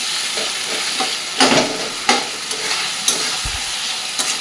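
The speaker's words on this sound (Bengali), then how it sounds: "একবারে পেঁয়াজের সাথে মাটনটাও কিন্তু কষা হয়ে যাবে।" Mutton frying with onions and spices in a pan without potatoes: a steady close sizzle broken by scraping stirs of a spoon at irregular intervals, with no talk.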